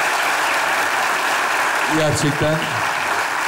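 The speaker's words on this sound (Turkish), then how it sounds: "Atakan ve Cemile'ye ayrı bir alkış bunun için." Studio audience applause for performers Atakan and Cemile after a sketch on a Turkish comedy show, a loud continuous roar of clapping with a brief spoken word cutting in near the middle.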